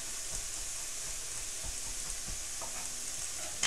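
Garlic frying in a pan while making shakshuka, egg in tomato sauce: a soft, steady sizzle with faint stirring scrapes throughout, no talking.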